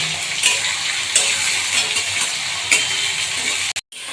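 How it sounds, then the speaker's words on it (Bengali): Oil sizzles steadily as prawns fry lightly, with occasional scraping stirs of a utensil against the pan, then a brief cut-out. "চিংড়ি মাছটা ভেজে নিই হালকা করে ভেজে নিই"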